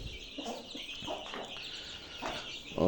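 A black hen with her six chicks, kept in a cage, gives soft, scattered clucks and peeps at close range over a faint background hiss, with a louder call right at the end.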